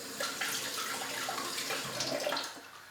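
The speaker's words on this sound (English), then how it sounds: "I'm washing my hands thoroughly" A tap runs steadily while hands are washed under the stream, giving a constant close splashing wash with small changes as the hands move. No one speaks.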